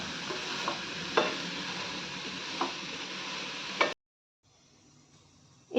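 Grated coconut being stirred with melted date palm jaggery in a pan, soft scraping strokes with faint sizzling, a few sharper spoon scrapes, then a pause and a final scrape.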